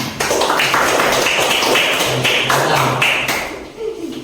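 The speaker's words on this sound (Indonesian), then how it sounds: "Tepuk tangan." Students in a classroom clap together, a dense burst of close hand claps with a few stronger accents that fades out near the end.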